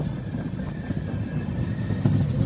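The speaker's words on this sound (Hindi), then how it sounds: "और ट्रेन भी स्लो हो गई है" A train slows on a railway line under double-track construction, heard from on board as a low rumbling roll with clattering wheels and faint squeals, steady and close.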